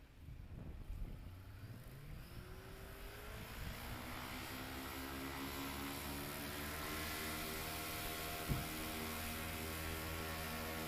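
A STOL aircraft takes off at the Appalachian Mountain short takeoff and landing competition. Its engine drones steadily and swells, climbing in pitch as it rolls and lifts off, with no voices.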